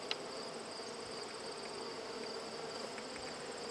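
Honeybees buzz continuously around an open hive during an inspection, a dense steady drone from many bees close by.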